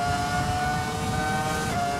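Ferrari F2004 Formula 1 engine revving during a race in the F1 2020 video game, a loud steady high-pitched whine holding constant with a brief pitch dip near the end.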